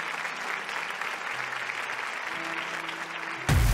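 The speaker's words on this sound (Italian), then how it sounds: "facciamo un applauso" Audience applause in a televised Italian singing competition studio, dense sustained clapping throughout, fairly strong, ending in a sudden loud thump at the close.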